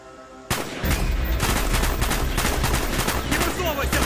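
Rapid gunfire in the Call of Duty Black Ops video game, loud bursts and repeated shots crackling continuously after a sudden start, with dense battle noise filling the whole stretch.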